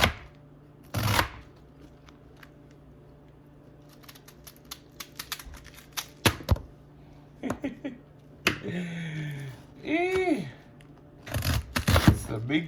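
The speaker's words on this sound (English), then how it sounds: "you want to cut your cabbage into big chunks" A knife cuts cabbage into big chunks for a pork stir fry, giving several sharp, separate chops on a board spread across the clip. Quiet pauses fall between the cuts, and a voice speaks briefly near the end.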